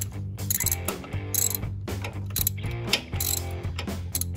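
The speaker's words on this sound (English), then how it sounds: "to actually remove the vacuum pump, I'm gonna use a 3/8 drive and a 1/2-inch socket." A 3/8 drive ratchet with a 1/2-inch socket removes vacuum pump bolts on a GM truck, giving fast, repeated metallic clicking strokes in a steady rhythm, close and clear with no talking.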